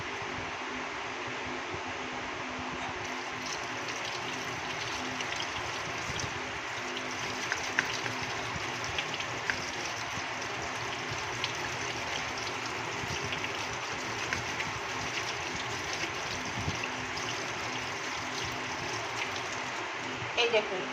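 Running water rinsing tengra fish during washing, a steady hissing stream of water with occasional clinks, continuous and close.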